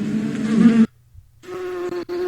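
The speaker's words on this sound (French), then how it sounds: "on peut la retrouver ici à la ferme, où l'abeille, elle peut être dans une ruche" An app plays a bee's buzzing in two steady, close bursts, separated by a short silence, with a brief dropout near the end of the second burst.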